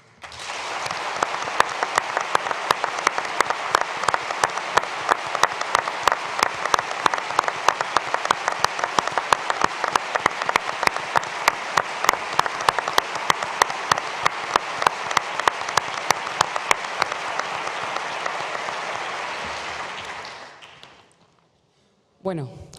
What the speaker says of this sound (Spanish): pido que todos la aplaudamos como se merece